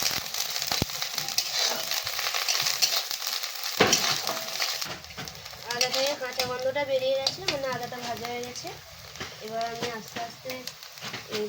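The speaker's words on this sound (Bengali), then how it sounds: "পেঁয়াজটা কিছুক্ষণ ভাজা হয়ে যাওয়ার পরে আদাটা দিয়ে দেবেন" Onion and ginger sizzle and fry in hot oil in a home kitchen, a steady close crackling hiss that carries on under a voice talking through the second half.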